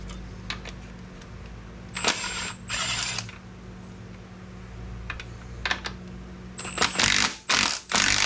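A ratchet works loose the generator mount bolts on a Willys Jeep F-head engine, giving several short bursts of rapid clicking, close and fairly loud, separated by quiet pauses.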